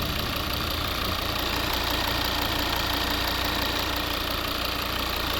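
A 2011 Volvo V70 with the 2.0 D3 diesel engine and six-speed manual, idling steadily up close with a constant, even rumble and faint clatter, no talking over it.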